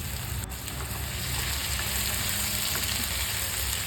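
Chopped capsicum and garam masala fry in hot oil with previously fried onion for a soya chunk biryani, giving a steady, dense, close sizzle that runs unbroken, with faint stirring under it and no voices.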